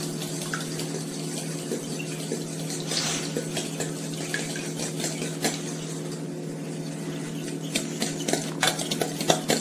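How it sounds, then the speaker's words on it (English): Eggs for French toast being stirred in a bowl, a steady soft swishing with faint clinks throughout, no voices. "crack you some eggs"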